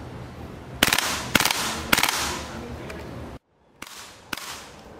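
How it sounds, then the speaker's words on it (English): A WE MP7 gas blowback airsoft gun fires five sharp, loud single shots with uneven gaps and a brief silent break before the last two, each crack carrying a short mechanical clatter. "So after you empty the magazine, take a new one, put it in, fire away."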